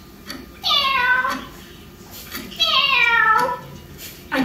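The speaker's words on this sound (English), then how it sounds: "Cleo didn't have much to say," A pet cat meows twice in clear, drawn-out calls with a short pause between, fairly close and loud over a quiet room, followed by the start of a third meow.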